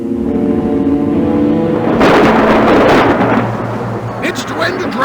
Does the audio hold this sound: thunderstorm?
yes